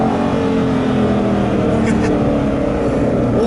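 An Aston Martin Vantage GT8 in a racing video game drones under load, a loud continuous engine roar that holds steady throughout with only slight swells.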